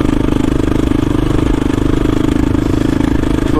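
A KTM motorcycle ridden through snow, its mid-pitched engine running with a steady, close, loud putter and a light clattery texture, with no talk over it.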